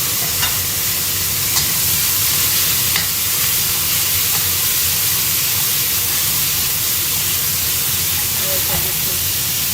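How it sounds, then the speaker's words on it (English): Chili and pork sizzling and frying in a pan while being stirred, with a steady loud hiss throughout and a few faint scraping clicks of the utensil. "I'm gonna stir it, stir a little, and then add the pork inside."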